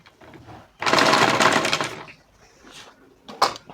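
A sewing machine stitches piping onto a fabric neckline in one steady burst of about a second, then goes quiet apart from faint handling noises.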